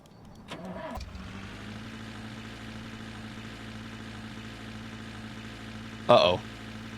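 Car engine in The Long Drive video game making a bad sound, a steady low hum after a start-up, with a voice speaking briefly near the end.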